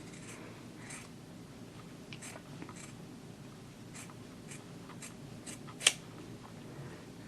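Scissors trim the darts on a little black dress made of neoprene down to 5/8 inch, giving a series of quiet, scattered snips over a faint background hiss with one sharper click near the end.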